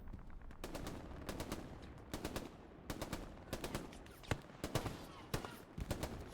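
Bursts of automatic rifle and machine-gun fire in the Hell Let Loose battlefield shooter, sharp cracks clustered in rapid volleys over a constant rumbling backdrop of combat, some shots close and loud, others more distant.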